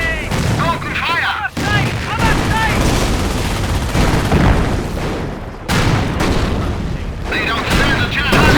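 Battle sounds from the World War II strategy game Company of Heroes: dense, loud bursts of gunfire and booming artillery piling up continuously, with brief unit voice lines mixed in.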